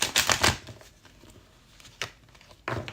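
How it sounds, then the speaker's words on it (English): Cards riffle in quick papery bursts, one at the start and another near the end, with a quiet pause between. "I feel like I have to turn this way to shuffle."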